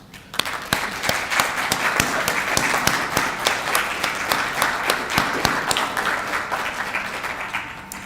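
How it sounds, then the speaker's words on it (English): An evening audience at the Appalachian Writers Residency applauds members of the Moore family, with sharp individual claps standing out over a steady bed of clapping that swells and then tapers off near the end. "I'd like us to recognize and applaud those members of the Moore family who are with us this evening"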